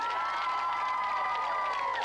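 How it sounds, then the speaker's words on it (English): Studio audience at a 1992 TVS game show cheers and whoops in a dense, continuous crowd roar, steady and loud throughout the short burst, with children's shouts mixed in. "Give them a big round of applause,"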